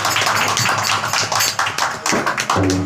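An audience claps along during a devotional bhajan at a Shiva Purana katha, continuous loud rhythmic clapping with steady overlapping hand claps that give way to a sustained tone near the end.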